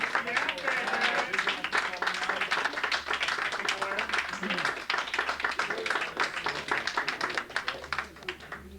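Audience at a Berklee jazz festival event applauding, dense, sustained clapping from many hands that carries on steadily, with voices mixed in.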